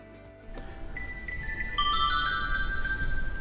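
An EZVIZ electronic smart chime plays its seventh tone, a bright, sustained electronic chime made of several overlapping ringing notes that enter one after another and hold for a few seconds, close and clear.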